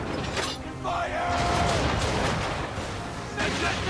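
Naval cannon fire in a sea battle in Assassin's Creed III, heavy booms and creaking ship mechanisms in a dense, loud mix with voices partly audible over the battle.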